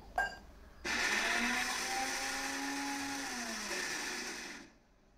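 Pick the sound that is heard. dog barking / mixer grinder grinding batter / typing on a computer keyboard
mixer grinder grinding batter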